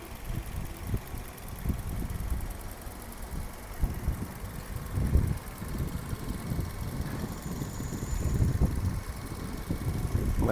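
A 2010 Toyota Vios sedan idles smoothly with a low, even engine rumble, heard close by and steady throughout with no voices.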